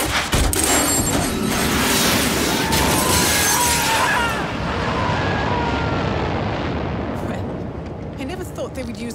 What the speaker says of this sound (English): Step three, pull the ejector seat handle.